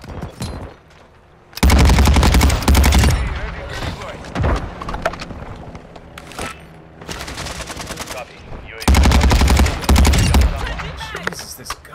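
Automatic gunfire in Call of Duty: Modern Warfare II comes in loud, rapid bursts, two long sustained volleys with scattered shots between them, alongside in-game noise and speech.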